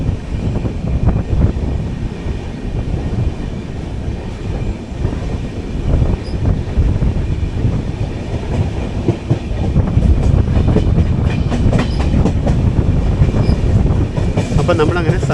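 Kakinada Port - Sainagar Shirdi Express rolling along the track: continuous loud rumble with rhythmic clickety-clack of wheels, carriage rattle and wind buffeting heard from onboard, growing slightly louder toward the end.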